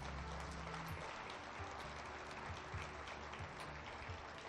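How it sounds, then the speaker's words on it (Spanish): Church congregation clapping during a sermon, a dense, continuous wash of applause with low murmuring underneath, fairly distant and even throughout. "Dele un aplauso con todo su corazón"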